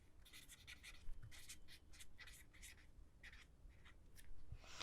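Pen scratching across paper while notes are written for a biology lesson, a quiet run of rapid irregular strokes and short scribbles, close and faint with small pauses between words.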